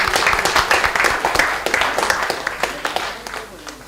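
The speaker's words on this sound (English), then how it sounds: "Let's clap for all the 4 teams though." Audience at a national banking quiz final applauds the four competing teams, a dense, steady patter of many hands clapping at close range for a few seconds.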